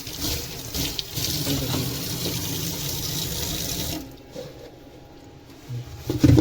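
Tap water runs hard into a sink while a Philips air fryer basket is rinsed, a loud steady splash that then drops off to a quieter trickle with a few clunks near the end.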